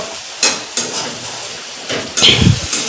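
Potatoes and okra fry in a home kitchen pan, a soft sizzle broken by a few sharp clanks and scrapes of a spatula against the metal, close and fairly loud, with no talking.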